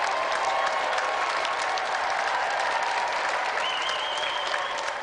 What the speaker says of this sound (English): let's have another round of applause for the triumphant challengers